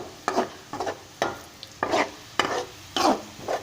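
Chicken is added to golden brown fried onions for a teenday chicken curry, with loud oily sizzling and a rhythmic series of stirring scrapes, about seven strokes, close by.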